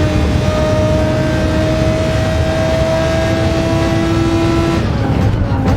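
Race car engines in Gran Turismo 7 drone loud and sustained, a high pitched engine note holding steady under acceleration with other cars close by, while a voice talks over the racing.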